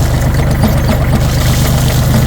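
A tractor engine idles and runs steadily while the loader bucket is worked, a continuous low rumble with even vibration close to the microphone and no speech.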